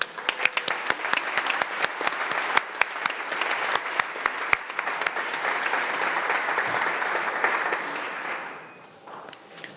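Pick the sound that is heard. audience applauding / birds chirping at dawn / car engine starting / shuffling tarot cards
audience applauding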